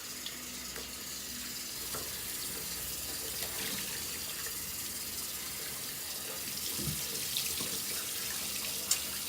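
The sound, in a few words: rag being rinsed under running tap water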